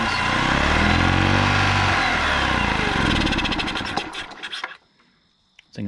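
An old gas golf cart engine, saved from a junkyard, runs loud and rough with a throbbing rhythm, then sputters and cuts out near the end, leaving brief quiet before a small restart noise.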